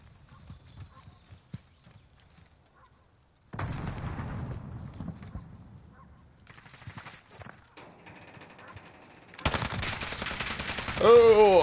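In a video game, a heavy-recoil weapon fires near the end after quieter stretches of movement and rustling. The shots come as a sudden loud burst, followed by a rising tonal whine.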